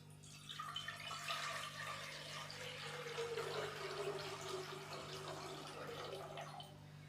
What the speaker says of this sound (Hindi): आलूओं को बॉईल करने के लिए हम पैन के अंदर 1 लीटर पानी डालेंगे।